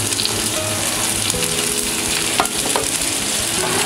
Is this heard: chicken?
no